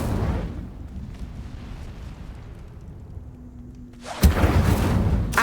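An Incendio fire spell goes off in a video game: a low, steady rumble gives way to a sudden loud, fiery whooshing burst near the end, which keeps roaring on.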